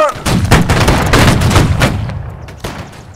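Musket volley fire in a Napoleonic battle, with a dense ragged cluster of loud overlapping gunshots crackling over about two seconds, then thinning to a few scattered late shots.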